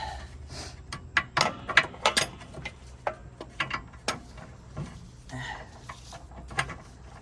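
A ratchet wrench tightens bolts while a VW MK5 GTI is being lowered, giving bursts of quick clicking and metallic clatter at close range, with no one talking.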